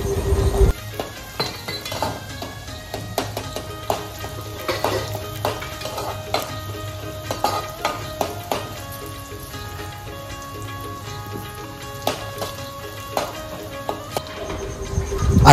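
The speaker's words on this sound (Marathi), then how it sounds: "त्यामध्ये 2 पळी तेल टाकायचं आहे आणि त्याच्यात कांदा भाजून घ्यायचा आहे, लाल होईपर्यंत चांगला भाजून घ्यायचं" Onion frying in two ladles of oil in a pot, a steady close sizzle running throughout with scattered light metallic clinks of a spoon against the pot.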